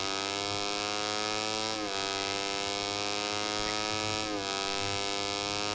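A motorcycle engine in the MotoGP 17 racing video game holds a steady, high-pitched buzzing drone at a constant level, with brief pitch dips around gear changes and no talk.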